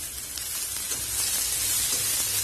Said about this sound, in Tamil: இந்த வெங்காயமும் கொடை மிளகாவும் ரொம்ப நேரம் வதக்க தேவையில்லை, லேசா வதங்கினா போதும்.